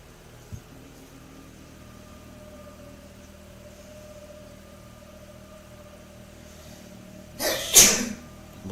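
One sharp sneeze bursts out near the end over a quiet background hum, close and loud compared with the surroundings.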